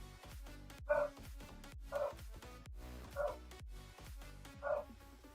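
A dog with dementia gives four evenly spaced, fairly quiet yips or barks, each short and slightly whiny, over a steady background of game music.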